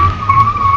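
A BMW 2 Series Gran Coupe launches hard in sport mode. A loud, steady, high tire squeal rides over a low engine rumble in one brief burst.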